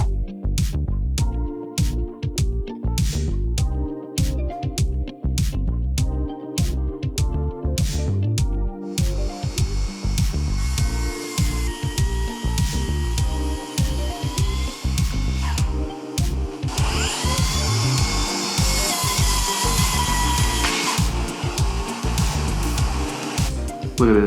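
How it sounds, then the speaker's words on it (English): A track saw cuts across the end of a live edge wood desk. Irregular clicks and knocks come first, then the saw spins up into a loud, sustained whine that swells harder as the blade bites into the slab. "Let's fire up the track saw."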